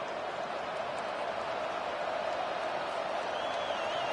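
Steady roar of a stadium crowd in the NCAA 25 college football video game, a dense constant wash of noise with a faint whistle-like tone rising near the end, no break in the din.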